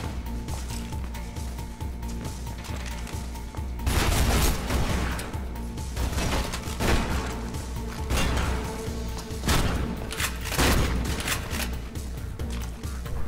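Gunfire from a carried weapon in the first-person parkour video game Mirror's Edge, a few sharp shots and crashes over a constant dense background of game sound and music.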